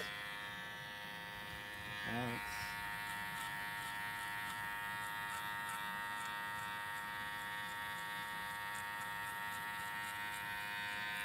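An electric hair clipper hums steadily and close up as it cuts a boy's low fade, with a short louder burst near the start as the blade meets the hair.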